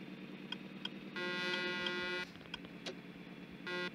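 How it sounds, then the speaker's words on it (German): A truck horn in Euro Truck Simulator 2 blares in two sustained honks, one long blast near the middle and a shorter one at the end, with small clicks and game noise between. "Ist die Hupe, weil die vielen nämlich sehr gefällt."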